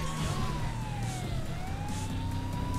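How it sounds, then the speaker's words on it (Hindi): A police car siren in a video game wails steadily with a sweeping electronic tone over a constant engine and road rumble, loud and close throughout without pause. "इसीलिए तो मैंने सायरन बजाया हुआ है"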